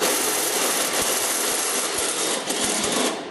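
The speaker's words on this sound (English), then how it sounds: "we'll go ahead and drill that rib out" Continuous high-pitched whine of a coring bit drilling out a rib, loud and close, with a few brief knocks and clicks along the way.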